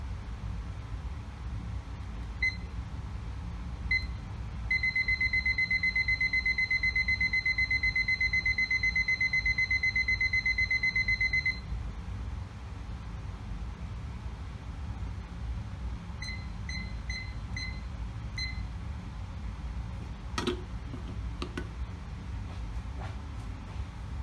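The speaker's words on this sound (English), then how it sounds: "set the timer for 1 hour" A kitchen timer being set for one hour gives short beeps as buttons are pressed, then a long steady alarm tone for several seconds, followed by more spaced beeps over a low background hum.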